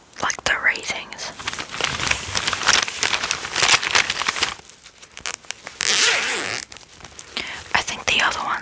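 A fabric pencil case full of coloured pencils being unzipped and handled close to the microphone, with raspy zipping and rustling bursts under soft whispering.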